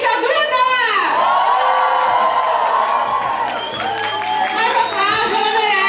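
Birthday party guests cheering, whooping and clapping after a toast, a dense loud wall of shouts and applause, with high excited voices sliding up and down over it.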